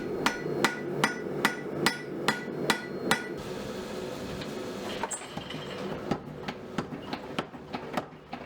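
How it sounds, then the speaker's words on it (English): A power hammer pounds steel being forged into a timber framing chisel in a steady, rapid rhythm, each sharp strike ringing out over a constant machine rumble, pausing briefly before resuming. "I'm going to set the welds on the anvil and move it over the power hammer"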